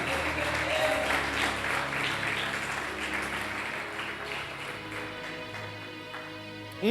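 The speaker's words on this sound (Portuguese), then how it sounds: "Eu queria que você aplaudisse a Jesus Cristo." Steady applause from a church congregation fills the space, sustained and fairly even, with a faint murmur of voices underneath.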